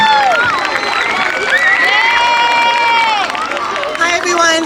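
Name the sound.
audience applause and cheering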